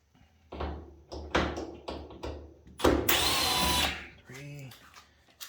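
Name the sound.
power drill removing screws from Samsung dryer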